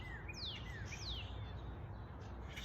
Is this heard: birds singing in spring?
yes